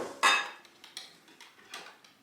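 Spoon scraping and clinking against a bowl while ground cumin and salt are stirred together, one sharp clatter followed by several lighter taps, close and alone.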